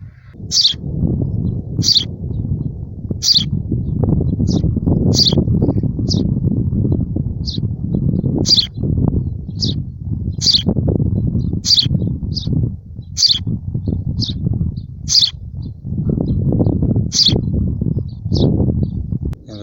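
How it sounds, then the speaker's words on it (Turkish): Four baby birds in a nest inside a wall give rapid, high-pitched chirps in a steady repeating rhythm, heard close over a continuous lower rumble of handling and background noise throughout. "İçerisinde 4 tane küçük güzel yavru kuş vardı arkadaşlar"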